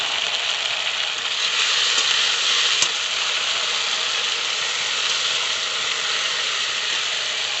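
Ground spice paste sizzles steadily in a pan of onions fried until reddish, a dense, continuous hiss and crackle that stays loud and even throughout, with one brief sharp tick partway through and no voices.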